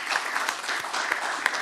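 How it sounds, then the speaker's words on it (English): Audience applause at an energy conference, a brief burst of many people clapping, moderately loud and even throughout. "I think that deserves another round of applause because that is amazing."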